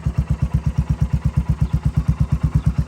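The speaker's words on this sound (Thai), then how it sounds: "เดี๋ยวเราลองสตาร์ทให้ฟังเสียงท่อกันดีกว่าครับ เครื่องสตาร์ทติดง่ายนะฮะเครื่องนิ่มๆเลย" A 2022 Royal Enfield Classic 350 motorcycle engine idles close by with an even, rapid low thumping pulse that holds steady throughout.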